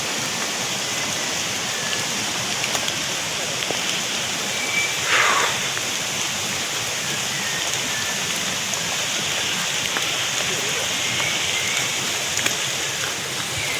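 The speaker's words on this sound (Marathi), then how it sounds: "पाऊस पण खूप चालू आहे जोरात" Heavy monsoon rain falls near Barki waterfall, a steady broadband hiss of rain striking surfaces that runs loud and unbroken, with a few brief louder patters and no voices.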